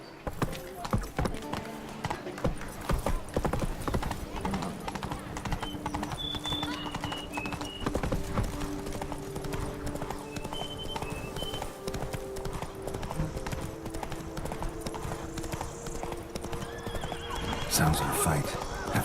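Roach the horse from Witcher 3 gallops with steady clip-clop hoofbeats and lets out a whinny, over game music and ambience, with brief talk partway through.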